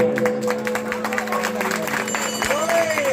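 Applause from an audience at a devotional Ramcharitmanas bhajan program, a dense patter of clapping hands sustained throughout, fairly loud and near, blended with crowd murmur and a lingering sung or amplified tone.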